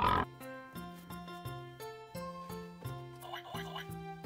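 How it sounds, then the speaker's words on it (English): Cartoon pig oinks repeatedly in a farm-animal version of The Wheels on the Bus nursery rhyme, a steady string of short rhythmic calls set over a bright, bouncy musical backing with no voices talking. "The pig on the bus go oink, oink, oink, all to the town."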